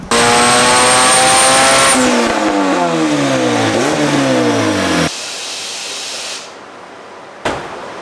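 A turbocharged Honda B18C engine on a dyno roars loud and close, revs held high, then the pitch sweeps down and up before the engine winds down and trails off into near silence.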